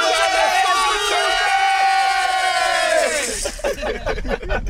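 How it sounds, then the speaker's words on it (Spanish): Concert crowd at a live banda show shouting a battle cry together, a loud sustained mass yell that breaks into scattered cheering and shouts near the end. "¡Nos salimos con el grito de guerra todos juntos!"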